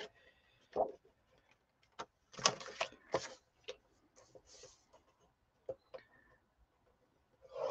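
Paper for a 6 x 6 folio album being scored on a scoring board, a few sparse dry taps and soft scrapes with quiet gaps between, close and faint.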